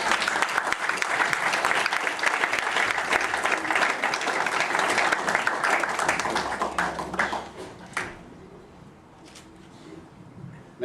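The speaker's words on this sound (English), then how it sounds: "And another round of applause." Warm wedding applause for the bridesmaids fills the room, dense and sustained clapping from the guests for about eight seconds before fading to quiet murmurs.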